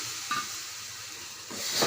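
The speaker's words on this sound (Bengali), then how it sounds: "এবার ভালো করে এটাকে কষাবো যতক্ষণ না তেল ছেড়ে আসছে" Spice masala sautéed in oil for rajma, a soft, steady hiss of frying with faint scrapes of stirring, quiet and close.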